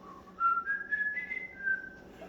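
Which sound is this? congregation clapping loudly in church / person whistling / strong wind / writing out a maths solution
person whistling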